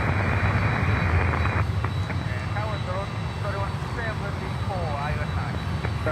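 Aircraft at Miami airport, including a heavy Boeing 777 and cargo planes: a loud, steady roar of jet engines that runs the full length, with an air traffic control radio voice talking over it.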